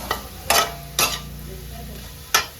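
A utensil stirs sautéed bitter gourd with egg in a pan, giving four sharp scraping strokes over a soft, steady sizzle.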